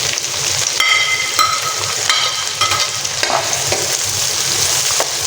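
Garlic and onion sautéing in hot oil in a pan, a loud, steady close sizzle with occasional scraping stirs and small clinks from a utensil against the pan.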